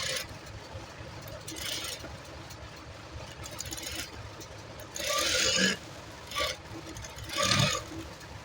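An electric sewing machine stitches a fabric neckline just inside the edge in short bursts of whirring that start and stop, over a quiet background.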